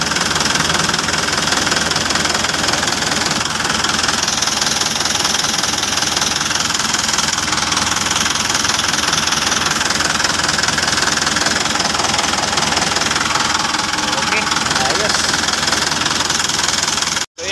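A Fuso Canter truck's diesel engine idles steadily and loudly after an oil change, with a dense rumble and a knocking clatter. It runs close and unbroken, then cuts off abruptly at the very end.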